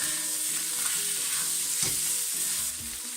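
Onion already grilled is stirred back into a hot frying pan for Georgian chashushuli. A steady, close sizzle of frying runs throughout with soft scraping from the stirring, and no voices.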